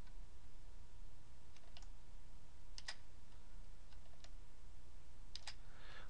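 Keystrokes on a computer keyboard come as a few faint, sparse clicks in small clusters as data is entered into an Excel spreadsheet, set against a quiet steady room hum.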